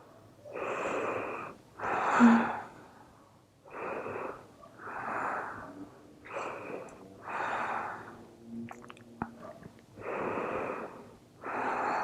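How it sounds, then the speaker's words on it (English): Deep, audible breaths, roughly eight slow inhales and exhales with a raspy, airy edge, taken while holding a stretch in an upbeat cardio flow workout. They are close and clear, with short quiet gaps between them and no talking. "Deep inhales and exhales."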